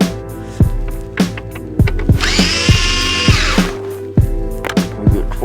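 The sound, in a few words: power drill removing screws from Subaru dashboard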